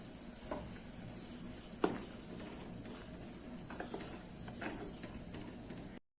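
Water coming to a boil in a pressure cooker while making plain kuska biryani, a steady bubbling sizzle with a few sharp clinks, moderately close and heard alone.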